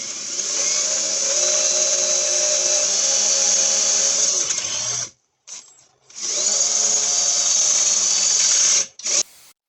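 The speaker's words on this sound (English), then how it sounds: "going to be using a 7/16 drill bit" A power drill with a 7/16 bit whines loudly and steadily, cuts out briefly mid-way, then runs again at full speed before stopping with a short final burst.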